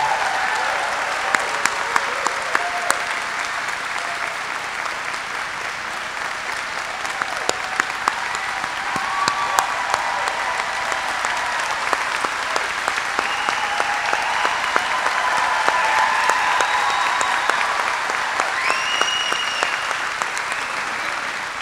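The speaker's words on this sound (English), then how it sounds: "Let's give her a round of applause" Audience at a National Women's Hall of Fame induction ceremony breaks into sustained, loud applause, a dense even clatter of many hands that carries on for about twenty seconds, with no talk over it.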